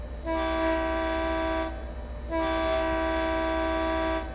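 An F40 locomotive horn in the Train Sim World game, on the Peninsular Corridor route, sounds two long, steady chord blasts with a short gap between them, loud and sustained over a low rumbling engine.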